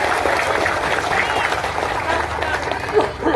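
A large crowd of several thousand applauds at a district roadshow event in Legonkulon, a steady, dense wash of clapping that carries on for a few seconds, with voices mixed in.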